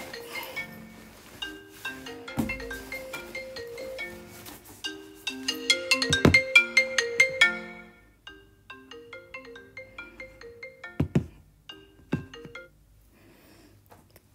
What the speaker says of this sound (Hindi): अरे कौन फ़ोन कर रहा है यार,